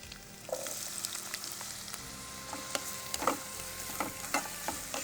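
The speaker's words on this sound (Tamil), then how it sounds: "ஜஸ்ட்டு வெங்காயம் சேர்க்க போகிறேன்." Chopped onion dropped into hot oil in a pan, a soft sizzle starting after a brief quiet moment and then crackling steadily with scattered sharp pops and stirring clinks, close and fairly quiet with no talk.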